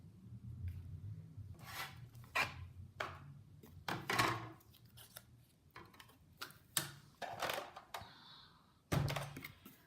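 A Big Shot die-cutting machine being set up and handled on a crafting table, a series of irregular close thunks, taps and plastic clicks separated by short quiet gaps, faint overall.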